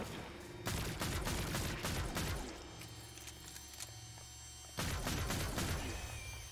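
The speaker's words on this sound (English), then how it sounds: "I think I'm gonna keep using the pistol" Pistol shots from the 2D action game Zombotron crack in separate bursts, loud and close, with a lower steady hum carrying on between them and a fresh volley near the end.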